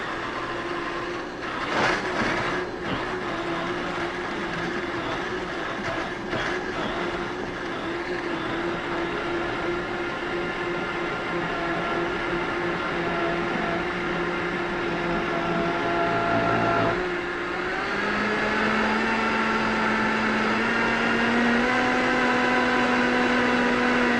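Countertop blender whirring a protein shake, a loud continuous motor drone holding steady for over twenty seconds, with the pitch dropping and then rising a step partway through.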